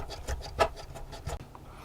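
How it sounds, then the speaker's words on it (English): A 2mm hand drill bores through a wooden part of an HMS Victory scale model, giving short rhythmic rasping strokes that repeat close by in a quiet room. "I've got a 2mm drill here, right, and I'm just gonna drill a hole all the way through."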